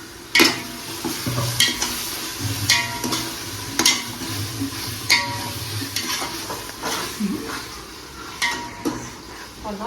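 Tomato masala for mutton biryani sizzles in a pan while a spoon stirs and scrapes against the metal in steady, repeated strokes, close and clear.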